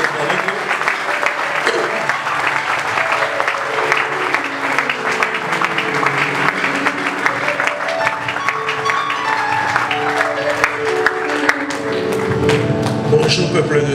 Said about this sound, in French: Est-ce que nous pouvons encore acclamer?